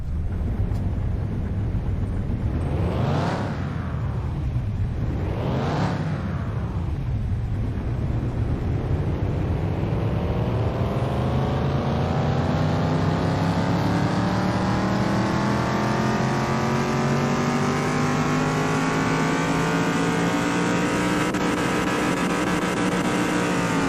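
A Land Rover Defender fitted with performance parts drives in Car Mechanic Simulator 2021. The engine is revved twice in quick bursts, then accelerates in one long, steady, rising pull that stays loud and close, with no voices.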